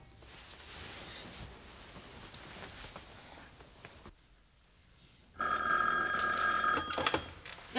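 A telephone bell rings loudly and insistently through an office scene in a Korean drama, cutting in after several seconds of soft rustling and a brief near-silence.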